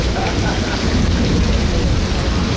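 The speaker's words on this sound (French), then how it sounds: "Petit orage." Thunderstorm in Cojímar, Cuba: heavy, steady rain pours down with a deep rumble of thunder underneath, loud and continuous throughout.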